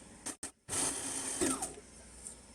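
A sewing machine stitching a stretchy serpentine stitch on elastic, a short start-and-stop followed by a steady mechanical whir, close and unaccompanied by speech.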